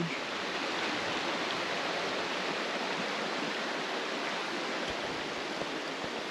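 Falls Creek rushing beneath a narrow one-person footbridge on a Pacific Northwest trail, a dense, steady roar of flowing water that stays even and close throughout, with no voices.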